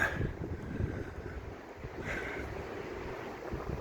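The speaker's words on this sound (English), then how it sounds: "The wind is terrible on the prom." Strong wind blows along the seaside promenade at Blackpool on a cold, gloomy morning, a steady rushing roar buffeting the microphone with a brief gust midway.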